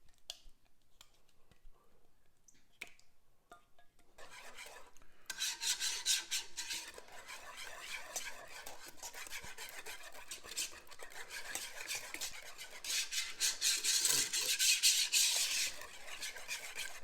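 Shrimp skin being blended into a warm dip in a pan, heard as quiet at first, then steady rasping, scraping strokes of a utensil against the pan that grow louder toward the end.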